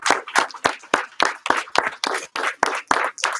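Steady, rhythmic clapping close by, about a dozen crisp claps at an even pace with no voices, honouring a newly certified first degree black belt karate student.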